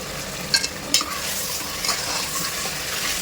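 Marinated chicken for a chicken biryani going into a hot pot, with loud sizzling and frying plus a few scraping stirs and clinks against the pan.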